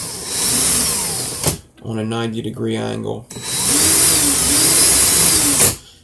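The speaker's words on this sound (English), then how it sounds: "put my drill in reverse," A power drill whines loudly in reverse while pulling a fastener on a garden tool build, two long bursts of motor noise separated by a short stretch of someone talking.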